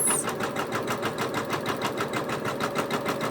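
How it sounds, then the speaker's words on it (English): A Janome embroidery sewing machine stitching a quilt in the hoop, a steady fast mechanical whir with an even rapid needle rhythm, close and continuous. "now it's making a long jump and just 2 stitches so that I could bury that long thread"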